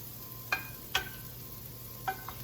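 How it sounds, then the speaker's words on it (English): Butter sizzles faintly in a pan over a steady low hiss, broken by a few clear clinks from stirring or utensils against the pan. "So I'm going to put a little butter in there."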